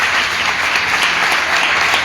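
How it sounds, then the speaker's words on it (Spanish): Church congregation at a women's worship service bursts into sustained applause for the Lord, a thick, even roar of many hands clapping with no talk. "Denle un aplauso al Señor si usted lo cree."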